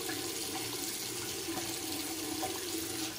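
Faint, steady stream of tap water rinsing the face of a Declaration B6 shaving brush at a sink, an even splashing rush with no voices.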